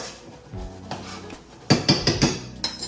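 Metal lid set onto a simmering cooking pot of greens, a soft shuffle followed by a quick run of bright clanks and rattles as it settles, close and fairly loud.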